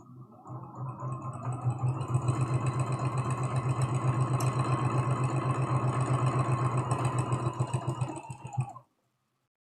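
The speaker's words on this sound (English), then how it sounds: "All right, we're just sewing all 4 sides." A sewing machine stitches all four sides of a scrappy spool quilt block, its motor giving a steady rapid mechanical hum that runs for several seconds without talk and then stops abruptly.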